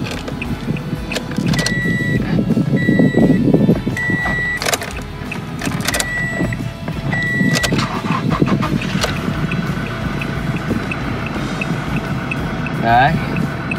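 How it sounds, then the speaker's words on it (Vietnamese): The 2.5-litre diesel engine of a 2017 Toyota Fortuner cranks and catches, then settles into a steady rumbling idle, with electronic chimes, clicks and someone talking over it. "Sau đây thì tôi sẽ nổ máy lên cho quý vị và các bạn cùng xem."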